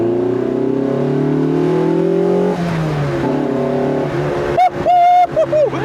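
Lotus Elise 340R, a 180-horsepower roadster weighing about 700 kilograms, revs hard under acceleration with a loud, steady engine drone that shifts pitch partway through, then climbs into sharp, high whining revs near the end.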